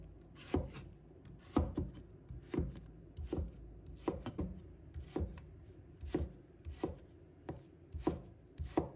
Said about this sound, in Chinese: 再把它切成厚片， 然后切成条。